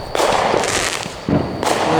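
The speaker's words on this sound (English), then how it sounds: "Fireworks over there." Fireworks go off outdoors in a series of loud crackling bursts, three main explosions with sizzling tails between them, heard at moderate distance and with no talking.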